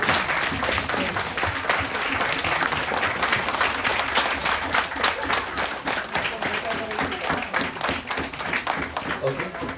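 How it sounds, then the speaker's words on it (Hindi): A crowd at a Bahujan YouTubers meet claps for an honored guest, a long, loud, unbroken wash of applause with scattered voices beneath it. "हम सब लोगों ने उठकर एक आउटस्टैंडिंग सर के लिए एक ताली बजानी चाहिए"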